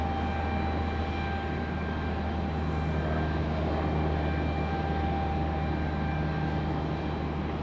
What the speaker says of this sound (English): This one is American coming in from Charlotte on A321.